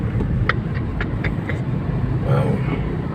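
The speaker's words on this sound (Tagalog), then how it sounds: "Oh, traffic oh." Road traffic in a Philippine street, steady engine rumble and passing vehicles with a few brief horn-like or brake tones, close and continuous throughout.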